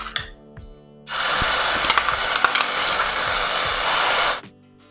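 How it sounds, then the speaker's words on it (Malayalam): Ground cooked carrot hits hot ghee and bursts into a loud, steady sizzle lasting about three seconds, with a few spoon scrapes, then cuts off abruptly into quiet. "ഇനി ഈ ക്യാരറ്റ് നെയ്യിലിട്ടിട്ട് ഒന്ന് വഴറ്റിയെടുക്കണം കേട്ടോ."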